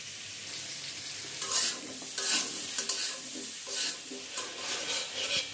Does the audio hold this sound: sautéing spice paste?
yes